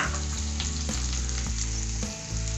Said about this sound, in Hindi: अभी हमको ऐड करनी है बारीक कटी हुई प्याज, कुछ 4 से 5 प्याज बारीक कटे हुए